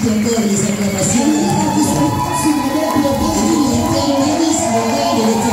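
A church congregation at a celebration service fills the room with a continuous wash of cheering and acclaim for the king, a loud, dense crowd roar with layered voices and music-like tones sustained throughout.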